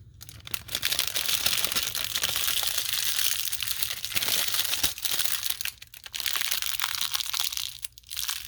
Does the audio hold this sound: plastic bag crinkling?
yes